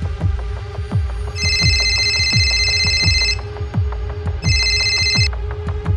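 A telephone rings in two long bursts of bright electronic trilling, loud and close, over a low, steady throbbing beat with no voices.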